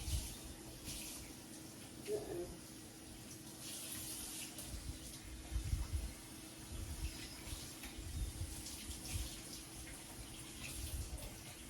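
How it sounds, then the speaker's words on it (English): Water runs steadily from a kitchen sink tap while a wire strainer is rinsed, a continuous quiet hiss and splash with occasional clinks, close by and with no speech. "So I'm coming over to the sink and I'm going to rinse it out."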